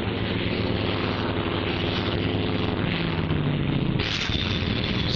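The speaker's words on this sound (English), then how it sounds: "McLean's Hellcat there will make it 43" A World War II Grumman Hellcat fighter approaching an aircraft carrier deck to land, its piston engine giving a loud, steady propeller drone that shifts pitch partway through, close and continuous.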